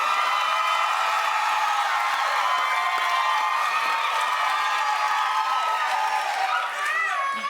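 A studio audience at a TV talk show claps and cheers loudly, with whoops and shouts layered over continuous dense applause that persists to the end.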